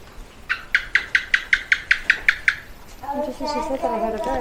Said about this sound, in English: right on cue I can hear a bird